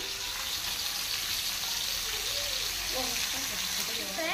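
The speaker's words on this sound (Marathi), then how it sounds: "हांवें एक सायड बरो भाजून ताका हांवें परतून घेतला" Goan-style green masala mackerel sizzles in a pan over medium heat, a loud, steady hiss of frying oil throughout, with a voice talking faintly underneath.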